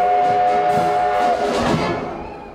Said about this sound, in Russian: С минуты на минуту на горизонте появляется поезд «Победы».